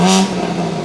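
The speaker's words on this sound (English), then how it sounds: "I'm gonna show you guys what the revs sound like now with the valves open, the valves closed." A BMW M3 with an aftermarket exhaust and its valves closed gives one short, loud rev up close, a harmonic engine tone that drops back into a broad rumble.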